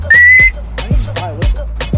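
A whistle is blown before a penalty kick in a knockout penalties game, giving one loud, close, steady blast of about half a second followed by scattered thumps and movement.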